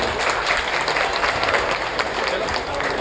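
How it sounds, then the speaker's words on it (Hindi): A crowd at an OBC community representatives' meeting in Maharashtra gives loud, dense, continuous applause with some crowd noise. "जोरदार ताली बजाएं"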